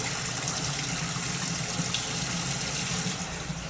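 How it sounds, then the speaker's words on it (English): A restaurant water heater being drained, water rushing out in a steady, continuous broadband gush with no breaks, close and fairly loud. "Temps were running high, so I'm dumping the water heater."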